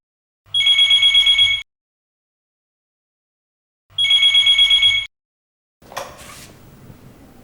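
A telephone rings in two electronic trilling bursts about three seconds apart, loud and close, followed by a brief clatter as the handset is picked up.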